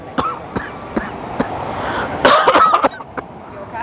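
A person coughs in a few harsh bursts, close to the mic. Faint outdoor background sits under the coughs, and there are scattered brief sounds before them.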